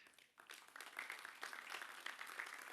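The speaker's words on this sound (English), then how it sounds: "Round of applause," An audience at a football tournament draw ceremony for the U23 Africa Cup of Nations gives a round of applause, steady clapping with a few brighter claps standing out, fairly distant and filling the whole moment.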